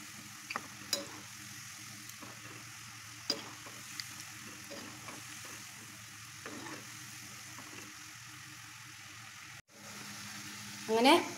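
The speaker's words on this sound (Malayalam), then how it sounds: "പൊട്ടാറ്റോ ഫിംഗർ എല്ലാം ഇതിലേക്ക് ഇട്ട് കൊടുത്ത് ഒന്ന് വറുത്തെടുക്കാം." Potato fingers deep frying in a pan of oil give a steady low sizzle with occasional stirring clicks and scrapes, fairly quiet throughout and louder near the end.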